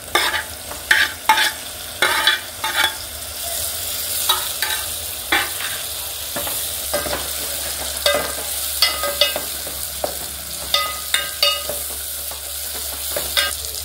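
Tomatoes fry with onions and green chillies in a pan, loud clattering spoon scrapes and stirring strokes in uneven bursts over a continuous low sizzle, no voices.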